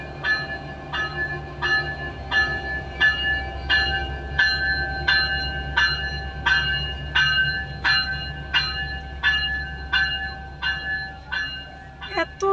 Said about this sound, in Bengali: এখন ট্রেনটা যাওয়া শুরু করেছে